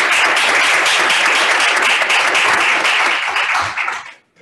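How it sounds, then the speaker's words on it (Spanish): A loud, dense burst of audience applause at a Foro de Foros intergenerational debate fills the room for about four seconds before cutting off abruptly into near silence. "Un aplauso también para él."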